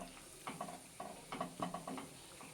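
Prawn malai curry bubbles softly in a pan while a utensil scrapes through it in repeated, evenly spaced strokes, faint and close.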